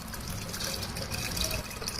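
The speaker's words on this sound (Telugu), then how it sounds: "చింతపండు వాటర్ అందులోనే పోసి బాగా కలపాలండి" Tamarind water is poured into a pan of sesame rasam, giving a close, steady splashing pour with light trickling and no speech over it.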